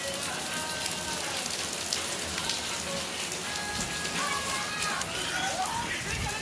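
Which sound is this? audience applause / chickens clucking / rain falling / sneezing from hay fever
rain falling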